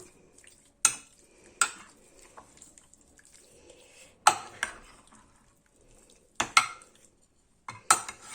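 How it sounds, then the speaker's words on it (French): Parsley, garlic and onion being mixed in a salad bowl, with sharp utensil knocks against the bowl at irregular intervals and soft scraping between them, close and fairly loud, with no talk. "On mélange."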